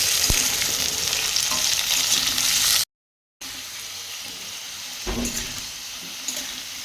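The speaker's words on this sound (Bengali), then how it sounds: "এবার আলুটাকে ভালো করে আমি ভেজে নিচ্ছি" Potatoes sizzle steadily in hot mustard oil, with occasional stirring scrapes; the frying cuts out briefly midway, then resumes just as strong.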